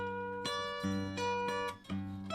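A guitar plays a slow phrase of sustained, ringing notes with a slide, one gliding into the next, clear and close with no voices.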